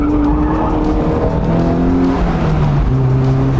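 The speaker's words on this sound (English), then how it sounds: "I also love the induction note on this car." Loud, close Mazda Miata NC engine noise with a sustained, humming induction drone from its sound tube, pitch shifting as the car moves, with no voices.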